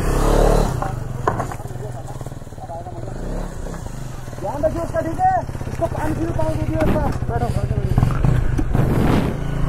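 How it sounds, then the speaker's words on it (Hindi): A Kawasaki H2R motorcycle engine runs steadily with a low, continuous drone while two people ride on it, and voices chatter over it throughout. "सो गाइस अभी एक ही बाइक से जा रहे हैं हम पे"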